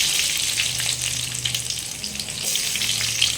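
Mustard seeds and a large chopped onion fry in hot oil, a loud, dense, continuous sizzle with crackling texture throughout, no voices.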